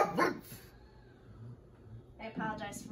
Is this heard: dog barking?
yes